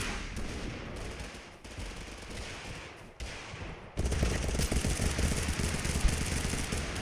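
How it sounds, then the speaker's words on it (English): Bursts of shotgun fire in Totally Accurate Battlegrounds, sharp repeated blasts over dense game noise that turns louder and busier partway through. "Shotgun."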